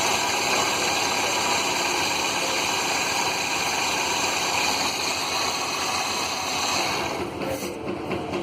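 A vehicle engine idles steadily through ignition and fuel system testing, a constant mid-level hum and vibration with no talk, easing slightly near the end.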